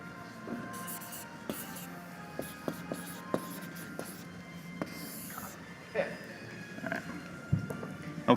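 Marker tip squeaking and scratching across a board in short strokes, with quiet room noise in the background.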